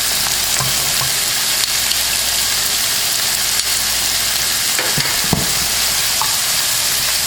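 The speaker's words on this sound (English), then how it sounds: "And I'm going to allow this to fry for a good 3 to 5 minutes." Tomato paste frying in a pan for a Haitian meatless spaghetti, a loud steady sizzle throughout with occasional faint scrapes of stirring.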